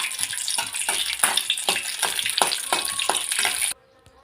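Green chillies and garlic fry in oil in a kadai, giving a close, bubbly sizzle broken by repeated stirring scrapes that continue steadily and then stop suddenly near the end, with nobody talking.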